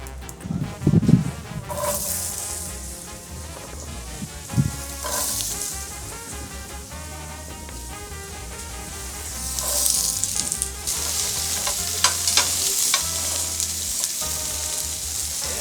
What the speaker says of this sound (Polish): bataty, zwane również słodkimi ziemniakami, rzuciłem sobie na średnio rozgrzaną patelnię, skwierczy